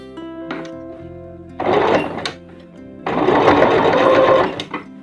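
An electric sewing machine stitches a washable cloth diaper with elastic in two loud, steady bursts, with pauses and small mechanical clicks between them.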